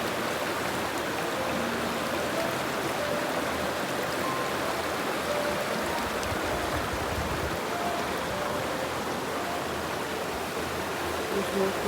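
River flowing beside a hiking campsite on Mount Marcy, a continuous broadband rush of running water close by, steady and even from start to finish with no voices over it.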